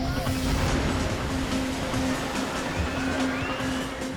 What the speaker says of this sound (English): Giant waves with immense power.